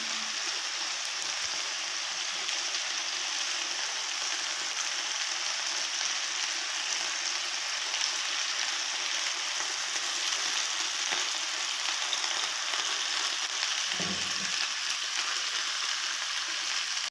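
Chicken shashlik pieces sizzle steadily in a pan over a medium flame, a continuous dense hiss with no one talking, holding an even level throughout.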